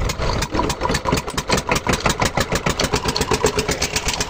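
A small petrol engine driving a farm water pump sputters to life and settles into a steady, loud chugging idle, its firing pulses evenly spaced and close by, with no voices.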